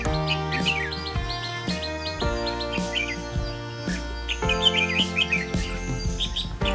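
Small birds chirp and tweet in quick bursts around a house while feeding their chicks in breeding season. The high calls sit over a steady, sustained tonal backdrop that changes pitch every second or so.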